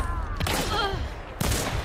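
Rapid gunfire from a shooter video game crackles in a dense burst, pauses briefly, then resumes, loud and close throughout.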